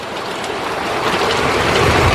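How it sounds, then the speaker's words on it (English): Hail during a thunderstorm, a dense, steady hiss and patter of ice striking surfaces that builds slightly in loudness, loud and close, with no talking. "Oh, yep, that's hail."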